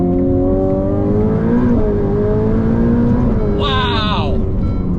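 A Ferrari F8 Tributo's V8 engine revs loud and close, its pitch climbing in a steady rising sweep with a brief sharper flare near the end.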